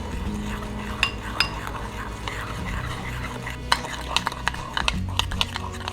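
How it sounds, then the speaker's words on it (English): A spoon stirs a paste of paprika, oregano and garlic in a bowl, with close, scraping strokes and small clinks against the dish, continuing steadily throughout. "Then mix until it is a paste-like consistency."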